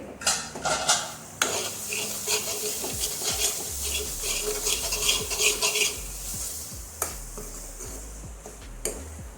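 A spoon scrapes and clinks steadily against a pan while masala roasts for stuffed bitter gourds, with a faint sizzle underneath and a few sharper metallic knocks near the end.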